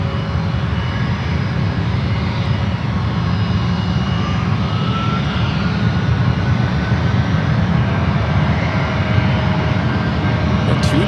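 JetBlue jet airliner taxiing at San Francisco airport toward the 28 runways, a steady, loud broadband engine roar with a faint whine running throughout, continuous and unbroken.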